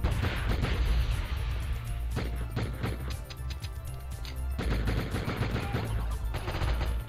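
Sustained machine gun fire in a video game, dense rapid bursts crashing loudly almost without pause, close and dominant, with heavy impacts mixed into the barrage.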